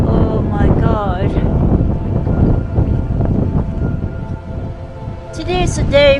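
Strong, roaring wind buffets the microphone on a swinging ski chairlift in Andorra's Grandvalira resort, loud and continuous, with a person speaking over it throughout.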